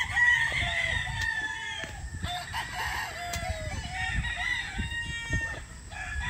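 An F1 Larry Romero Raptor sweater gamecock on a farm gives drawn-out crows, fairly quiet and somewhat distant, over a low steady outdoor background.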